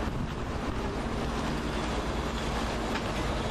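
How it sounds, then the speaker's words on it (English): London Underground stock train on the Hammersmith and City line heading out toward Hammersmith, a steady rumbling roar of rolling wheels and carriages passing at moderate distance, continuous and even with no voices. "Stock train on the Hammersmith and City Line working out to Hammersmith."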